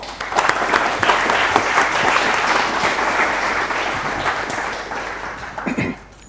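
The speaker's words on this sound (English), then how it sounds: "Let's invite him with a wide applause." Sustained audience applause welcoming a keynote speaker at an academic talk, dense and steady clapping for about five seconds before tapering off near the end.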